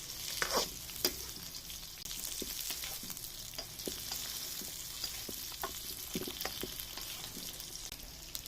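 Boiled potatoes fry with onion and capsicum in a pan, a steady close sizzle broken by intermittent scraping and clinking as the mixture is stirred, with no talking.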